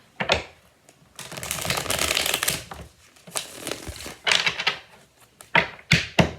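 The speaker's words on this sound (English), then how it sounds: "I feel called to shuffle one more time." Close, crisp riffling of a deck of tarot cards being shuffled in several quick bursts, with brief pauses between them and no talking.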